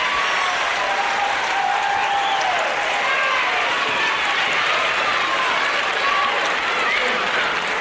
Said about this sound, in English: The winner and delighted crowd, especially the young ladies there, standing up and screaming their delight as Steve Veidor gets the decision